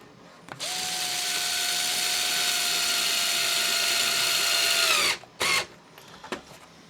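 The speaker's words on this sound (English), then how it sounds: "But if you got power tools, it's not so bad." A power drill unscrews screws from a Traxxas UDR truck body: one steady, loud high-pitched whine runs about four and a half seconds, then stops, followed by a short second burst and faint clicks.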